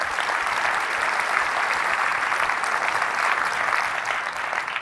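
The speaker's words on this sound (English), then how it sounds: "Let's give them an applause." A large audience claps in steady, dense applause at a 2017 SVVR virtual reality keynote. The sound is loud and even throughout and sounds like a big hall, with no speech over it.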